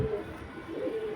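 A Karna pigeon, a tumbler-type flying breed, gives a soft, low cooing close by, a steady murmuring call that swells slightly toward the end with no speech over it.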